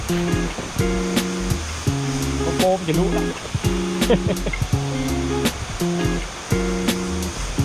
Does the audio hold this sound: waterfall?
yes